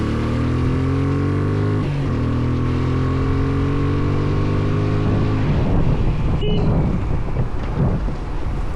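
A car moving along a road, with a loud, continuous engine drone and rolling noise. Wind buffets the microphone heavily, and the gear-shift tones rise and drop.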